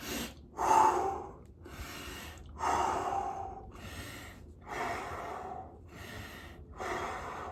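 A man breathes in and out heavily through his nose while lifting a light weight of about 10 kilos, giving several loud, close breaths in a slow repeating rhythm, alone with no talk.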